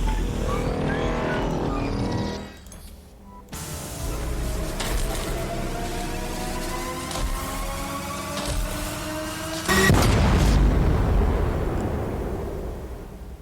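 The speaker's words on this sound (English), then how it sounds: "Once the mat has exploded," A mat exploding in the video game Astroneer: a rising engine-like whine with a sharp cutoff, then a loud burst of rumbling noise that fades out gradually.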